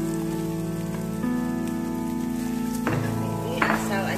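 Eggplant and soaked, coarsely chopped dried shrimp sizzle steadily in a hot pan, a loud continuous crackle with a brief burst of louder spattering near the end as ingredients hit the oil.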